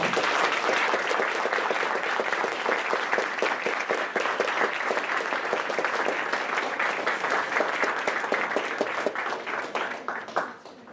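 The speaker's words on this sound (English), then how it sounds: "let's have a very massive round of applause for them" Sustained applause from an audience at a school climate evening, thanking the speakers; steady, dense clapping fills the room for about ten seconds before thinning and fading at the end.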